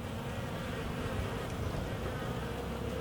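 A mass of honeybees hums steadily on the comb around a newly released queen, a close, continuous, even buzz with no voices.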